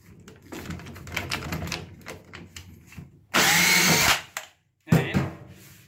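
A power drill whirs in a loud, steady burst for about a second, stops briefly, then grinds again while reseating a leaking tap's valve seat, after some clattering handling noises.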